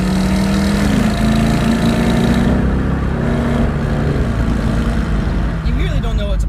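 A Chevy SS performance car's engine runs with a steady, continuous rumble, holding loud and close throughout with slight shifts in pitch as it revs.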